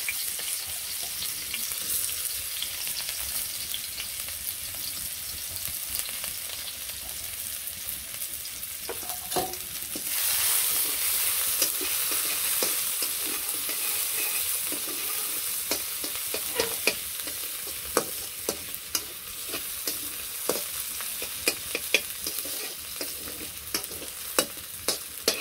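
Chopped onion frying in oil in a wok, a steady close sizzle that swells louder partway through, then frequent scraping stirs and sharp utensil taps toward the end.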